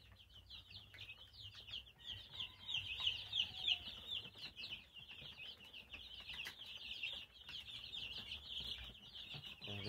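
Eight-day-old farm chicks in a brooding house peep continuously in a high-pitched chorus, moderately near, with occasional wing flutters and soft rustling beneath.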